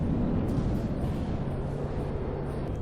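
Explosion in the naval combat video game From the Depths, heard as a loud, sustained rumbling blast with heavy low-end roar that fills the clip, close and alone.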